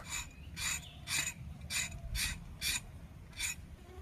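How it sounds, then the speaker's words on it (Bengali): Pointed gourd skin being scraped off, heard as seven evenly spaced rasping strokes, close and fairly faint, with no voices. "প্রথমে আমি পটলের এই ছালটা আমি ঘষে ছাড়িয়ে নেব।"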